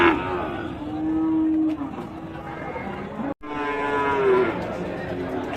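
A pair of desi (native breed) cattle, one larger and one smaller, low loudly at a cattle market, with long drawn-out moos filling the air and a brief break midway.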